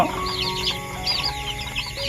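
Young chicks about a week old, kept in a sheltered pen, cheeping in rapid repeated high-pitched peeps over a low background hum.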